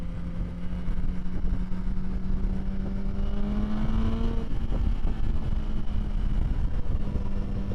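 A motorcycle cruising in third gear at around 80, its engine a steady droning hum with a slowly rising tone, heard close up under heavy rushing wind noise, with no talking.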